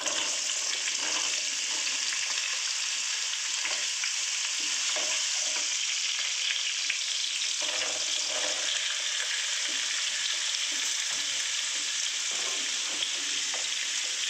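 Carrot and potato fry in oil in a pan for Bengali semolina pulao, with a dense, even sizzle running for the whole stretch, close up, and occasional soft stirring under it.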